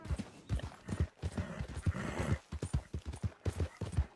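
Horse hooves clip-clop in Red Dead Redemption 2 as the horse is called out near a barn, a steady rhythmic series of hoof hits at close range, with a brief whinny-like burst mixed in the middle.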